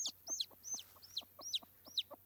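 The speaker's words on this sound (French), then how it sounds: "les deux poussins noirs ils sont partis parce que ils me fuient un peu" A hen and chicks making repeated high chirping peeps and soft clucks in a quick, even rhythm, close by and fairly quiet.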